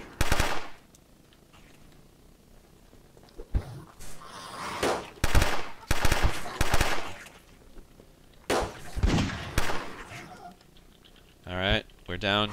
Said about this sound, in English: she brought the MAC-10 finally. Time for about a couple rounds with this